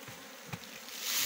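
Honey bees buzzing around an open hive during a honey harvest, a steady close insect drone that swells louder toward the end with a brief bump partway through.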